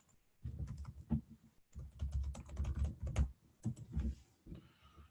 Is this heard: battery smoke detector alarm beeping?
no